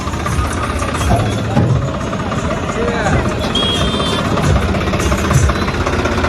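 A Blue Horse 63 tractor engine idles with a steady low rumble beneath constant crowd chatter and background noise at a mass wedding ceremony.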